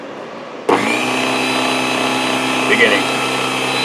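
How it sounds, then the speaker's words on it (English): A Proxxon DB 250 micro lathe turning wooden nutcracker legs starts abruptly and settles into a steady, high motor whine, with brief changes as the cut varies and a voice speaking briefly. "This is such a tiny, cute little lathe."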